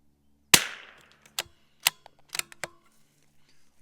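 A CZ455 .22 rimfire rifle firing CCI Standard Velocity ammunition gives one sharp crack followed by lighter clicks and clacks of the bolt being worked, nearby and with no talk.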